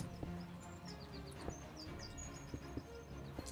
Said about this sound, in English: Of course, you can hear that bird's out